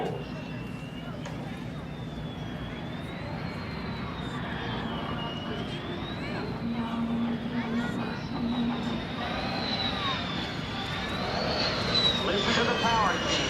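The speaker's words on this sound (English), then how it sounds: "From the right, the carrier configuration pass of your United States Navy's F-14 Tomcat with Rocco and Smokin' at the controls." A US Navy F-14D Tomcat fighter in carrier configuration makes a demonstration pass, its engine roar building steadily under a loudspeaker announcer's voice, with a faint wavering whine above.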